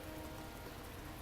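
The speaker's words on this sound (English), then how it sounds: "rain slaps heavily on the bridge above" Heavy rain pours down onto a bridge overhead in The Fruit of Grisaia, a dense, steady hiss with no breaks, faint and even across the whole short stretch.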